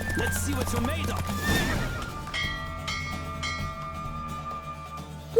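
A horse in The Witcher 3 gallops with rapid clip-clop hoofbeats and lets out a loud, close whinny, while a character's voice and a ringing bell-like tone carry over the racing scene.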